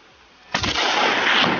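A single loud rifle shot while hunting chamois in the Austrian Alps, a sharp crack followed by a long rolling echo that lingers through the rest of the clip.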